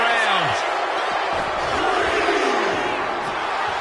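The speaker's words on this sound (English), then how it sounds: "And Rocky is revving this crowd up." Wrestling arena crowd roaring in WWE 2K25, a loud continuous wash of cheering and yelling with some thuds and swooshing effects, while a commentator's voice runs beneath.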